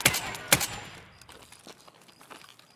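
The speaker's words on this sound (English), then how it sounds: "I'm shooting through and hitting him" Gunfire in a video game, shots fired through a shipping container at a hidden enemy: two sharp, loud bursts close together at the start, then scattered fainter shots trailing off.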